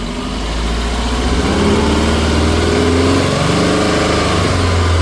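A car engine rumbles loudly up close, rising in pitch and holding a strong, steady roar as it is revved.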